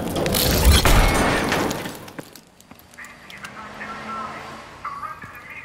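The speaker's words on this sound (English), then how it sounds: "Bust through the door. Bang!" Door breach explosion in Advanced Warfare: a loud blast with shattering and crashing debris, then quieter rattles and clatter as it dies away, with voices in the background.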